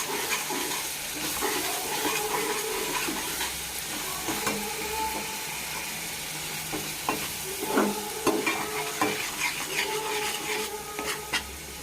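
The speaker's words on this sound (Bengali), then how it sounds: "পেঁয়াজ বাটা রসুন বাটা দিয়ে ভাজা ভাজা করে নিচ্ছি।" Onion and garlic paste frying with spices in a pan, a steady sizzle with repeated scraping and stirring strokes, close and moderately loud, with no voices.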